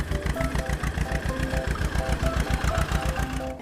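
A tractor engine runs steadily while it ploughs a field, its rapid mechanical knocking pulsing in an even rhythm. The sound is loud and close, with a faint repeating tonal pattern layered over the engine.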